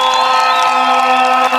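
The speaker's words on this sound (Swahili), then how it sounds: "Hebu jipigieni makofi watu wa Kangundo." A large crowd at an outdoor political rally in Kangundo, Kenya, cheering and whooping loudly and steadily for the whole moment, a dense sustained roar of many voices with some applause mixed in.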